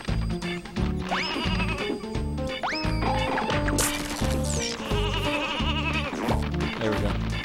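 Sheep bleats from the N64 game Space Station Silicon Valley ring out in rising wavering cries over steady, loud game music, repeating several times through the stretch.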